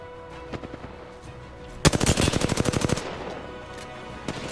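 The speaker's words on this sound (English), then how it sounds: "I'm taking fire." Rapid automatic gunfire in Apex Legends, a dense burst of about a dozen quick shots lasting around a second, with scattered fainter shots and game noise before and after.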